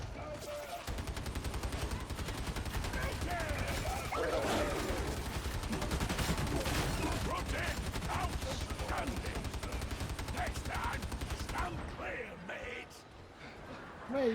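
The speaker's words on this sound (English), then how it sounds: "he's shooting me" Rapid gunfire in a video game, a steady stream of shots crackling throughout under frequent talk from players.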